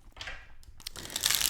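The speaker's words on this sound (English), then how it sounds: "One more shuffle," Oracle cards being shuffled by hand, a quick close burst of papery riffling and crinkling that builds to a denser flutter at the end, with no voices.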